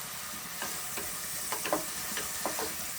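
Onions frying in a pan for mutton curry give a steady close sizzle, with scattered clinks and scrapes as they are stirred, at moderate loudness and without talking.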